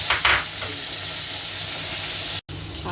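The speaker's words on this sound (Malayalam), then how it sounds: "ഇനി അതേ കായ അരിഞ്ഞ് വെച്ചത് നമുക്ക് അങ്ങോട്ട് ഇട്ട് കൊടുക്കാം കായ ഇങ്ങോട്ട് ഇട്ട് അതൊന്ന് ചെറുതായിട്ടൊന്ന് വഴറ്റിയെടുക്കാം നമുക്ക്" Sliced raw plantain being sautéed in a pan for a plantain and bean thoran, giving a steady close sizzling hiss with a few light scraping touches early on and a brief dropout near the end.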